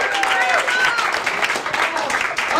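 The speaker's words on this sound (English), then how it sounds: "Start clapping right now for Mr. Joey Rimatello." Comedy club audience at Gotham Comedy Club applauding a comedian's introduction: dense, steady clapping fills the whole stretch, close and loud, with a host's voice cutting through over it.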